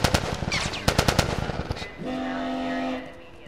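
Rapid automatic gunfire in The Last of Us Remastered, a close burst of sharp shots over about two seconds, followed by a sustained horn-like tone.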